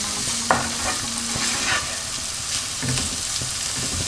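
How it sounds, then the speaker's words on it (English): Smoked salmon stirred in a pan over medium heat for a salmon pasta bake, with a steady sizzle of frying and a few clear scrapes and clicks of the utensil against the pan, close and continuous. "So you just give that a good stir and allow that to cook on a medium heat."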